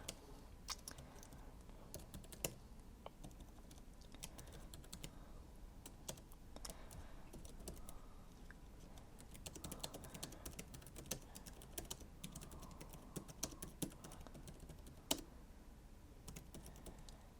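Soft, irregular clicking of keys being typed on a compact foldable Bluetooth keyboard (Jelly Comb), steady tapping with occasional louder clacks, quiet and close with no talking.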